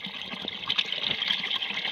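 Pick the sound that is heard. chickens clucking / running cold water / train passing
running cold water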